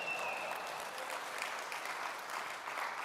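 An audience claps at a company keynote, a dense, steady patter of applause lasting a few seconds, moderately distant and even in level, with no one speaking over it.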